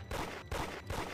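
Gunfire in a Roblox game, three loud bursts of rapid shots in quick succession, each cut by a brief gap, close and with no talk over them.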